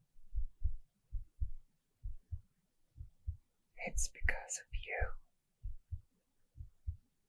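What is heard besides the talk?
heart beating in chest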